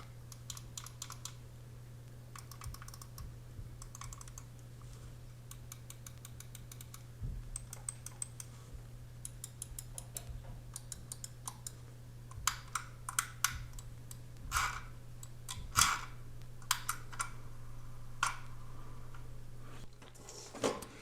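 Rapid clicking from the side buttons of a Logitech G502 Hero gaming mouse, coming in quick bursts close up over a steady low hum, growing sharper and louder toward the end.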